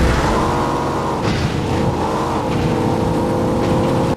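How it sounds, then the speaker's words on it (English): A vehicle engine revs steadily in the off-road racing video game FUEL, its drone loud and close with the pitch dipping and climbing again, and no talk over it. "some vehicles sound like they have two engines going at once"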